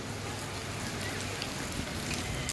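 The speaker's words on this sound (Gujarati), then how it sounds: "અત્યારે થોડો વરસાદ ઓછો પડે છે" Steady rain pours down after a night of heavy rainfall, a dense, even hiss of drops hitting surfaces that continues unbroken throughout, with no voices.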